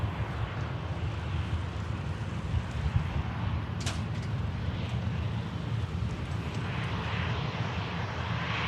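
An EasyJet airliner crossing the runway gives off a continuous broadband engine roar mixed with wind noise, steady and fairly loud throughout.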